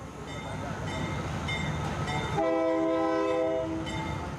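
A night freight train on the Mexico–Texas border rumbles past with steady rolling noise, then a long horn blast sounds loud and sustained over the clatter.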